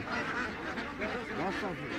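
Ducks from Mymensingh, about 1.5 kg each, quack and honk together at a busy wholesale duck market in a Bangladeshi village, a dense, continuous chorus close by with people talking over it.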